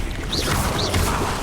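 Stupefy stun spell cast in Hogwarts Legacy, a brief whooshing magical zap with a short rising-falling swish, repeated twice over dense, continuous combat noise.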